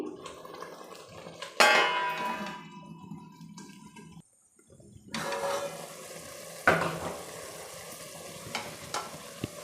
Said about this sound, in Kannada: ಈ ಥರ ಮಿಕ್ಸ್ ಮಾಡಿಬಿಟ್ಟು ಸ್ವಲ್ಪ ಹೊತ್ತು ತಟ್ಟೆ ಮುಚ್ತೀನಿ